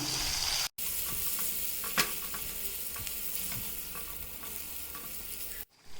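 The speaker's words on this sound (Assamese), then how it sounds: "ইয়াত দি দিম এই আদা নহৰুৰ পেষ্টখিনি ধুনিয়াকৈ লৰাই দিম" Ginger-garlic paste sizzles in a hot pan while being stirred, with a constant frying hiss, occasional scraping knocks and two brief silent breaks, and no one speaking.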